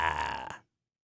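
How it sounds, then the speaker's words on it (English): A man's single throaty burp, short, close and fairly loud, lasting about half a second before silence. "I burped, pardon me."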